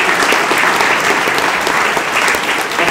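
Audience at an evening sustainability talk event giving a round of applause for the speakers, a dense, steady wash of clapping throughout, close and loud with no talking.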